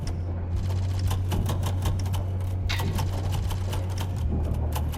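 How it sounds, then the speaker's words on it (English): Rapid keyboard typing clatters in quick irregular bursts of keystrokes, close and continuous over a low steady hum. "I hear them typing."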